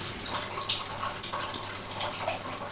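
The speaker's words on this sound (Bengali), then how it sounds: "এটাকে আমি এখন জলে ভিজিয়ে দেবো।" Water runs and splashes steadily over a plate of modak dough being soaked, a close, soft, continuous trickle with small drips.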